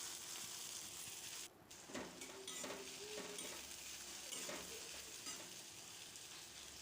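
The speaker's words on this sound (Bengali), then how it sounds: "পেঁয়াজ রসুনটা ভালো করে ভাজতে থাকবো।" Chopped onion and garlic frying in oil in a pan, with a steady soft sizzle and occasional stirring scrapes and clinks, fairly quiet and close.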